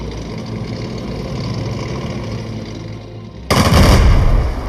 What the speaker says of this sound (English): Select the tank and attack the enemy infantry.